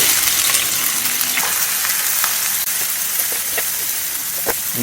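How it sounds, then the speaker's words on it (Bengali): Loud, continuous sizzling of onions frying in hot oil until browned for egg korma, a dense crackling hiss with scattered pops, close up and without talk. "এবার পেঁয়াজগুলিকে বেরেস্তা করে নেব।"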